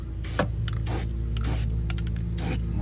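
Rust-Oleum spray paint hisses onto exposed metal near a shore power cord installation on a Sprinter van, several short bursts over a steady electrical hum.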